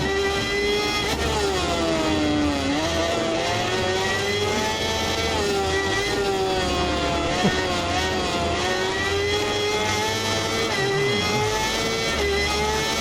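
A Kawasaki ZX10R sport motorcycle engine in the racing game Ride 4 wails at high revs, pitch rising and dipping through shifts, loud and continuous, with a faint voice beneath.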